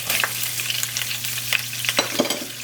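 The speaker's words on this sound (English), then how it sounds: "Now we're going to add a sliced onion." Sliced onion sizzles in a hot pan just emptied of browned chicken, a steady close frying crackle with a low hum beneath and a few sharp stirring clicks from a utensil against the pan.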